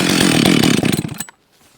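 Husqvarna 562xp chainsaw running loud and close while cutting into a 20 to 24 inch split red oak log, a buzzing rasp that cuts off abruptly after about a second, leaving near silence.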